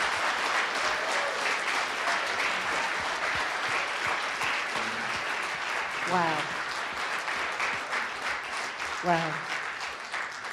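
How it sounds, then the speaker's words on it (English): Audience applause for the band at a live show, steady dense clapping filling the hall throughout, with a couple of voices calling out over it. "round of applause."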